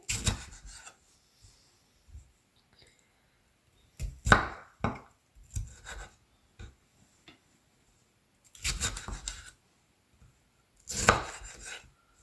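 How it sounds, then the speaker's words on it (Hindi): A knife chops tomatoes into pieces on a board in a home kitchen, making irregular bursts of crisp cuts with pauses between groups, close and clear with no talking. "इस तरह से इतने पीसेस करने हैं टमाटरों के।"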